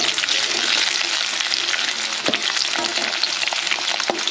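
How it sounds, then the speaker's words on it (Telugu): Green chillies and onions, some left whole and uncrushed, fry in a pan with a steady, dense sizzle broken by occasional sharp pops and crackles, close and fairly loud, with no talking. "ఇలా ఫ్రై చేసుకుంటున్నాను."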